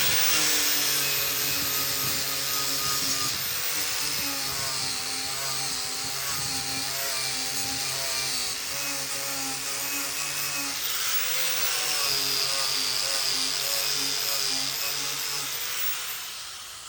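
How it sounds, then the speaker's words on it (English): Wire buff power tool polishing extended aluminium seat and bait board poles, a steady loud whine with rough abrasive hiss running continuously for the whole stretch, shifting slightly in pitch as pressure changes. "I'll just hit it with the wire buff."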